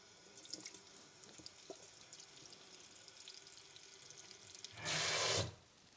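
Water runs from a kitchen tap in a short loud burst of about half a second, measuring out 250 ml, after faint quiet kitchen background noise.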